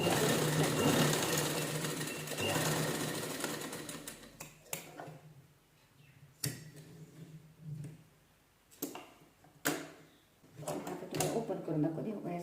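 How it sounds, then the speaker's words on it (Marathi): A sewing machine stitches a folded standing sleeve, first in a fast continuous run, then in short separate bursts with quieter gaps, close by, while someone talks. "फोल्ड करायचं आणि त्याच्यावर शिलाई लॉक करून घ्यायची."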